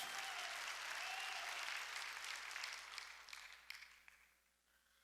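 A church congregation clapping during a Sunday worship service, a loud, dense burst of applause that holds steady, then thins and fades toward the end, with a voice faintly underneath.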